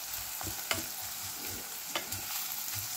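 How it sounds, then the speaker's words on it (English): About two medium chopped onions fry in a pan, a quiet hiss with soft rhythmic scraping and a couple of sharp spatula knocks against the metal, no talking. "we'll put about 2 medium-sized chopped onions, and we'll fry them for some time"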